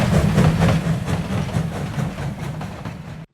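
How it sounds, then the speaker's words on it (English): A train rumbles past in a sound-effects recording, with a heavy low engine drone and a rhythmic clickety-clack of wheels on rails that fades slightly before cutting off abruptly. "this is where I've put all the train sounds"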